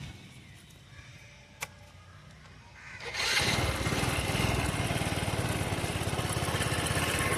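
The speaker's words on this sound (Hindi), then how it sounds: "चलिए आपको इसका एग्जॉस्ट नोट सुनाए थे एक बार।" A Bajaj Discover 100 motorcycle starts after a quiet stretch with one small knock, then its engine settles into a loud, steady idle with a faint rhythmic thump in the exhaust note.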